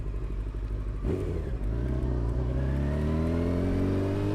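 A 1993 Honda CBR900RR motorcycle engine idles briefly, then revs up sharply after about a second, its pitch climbing steadily, loud and close.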